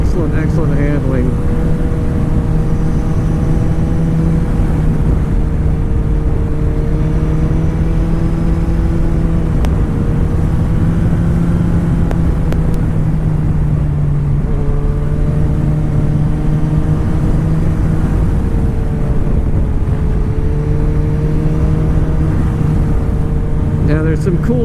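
A 2009 Kawasaki Ninja ZX-14 motorcycle under way, its engine a loud continuous drone that rises and falls with the throttle over steady wind rush, while a rider talks over it throughout.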